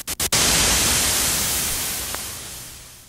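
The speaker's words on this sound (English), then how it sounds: "and white noise." White noise from the generator of a Moog 900 series modular synthesizer: a steady, loud broadband hiss that begins after a few short bursts and holds for about three seconds, fading slightly toward the end.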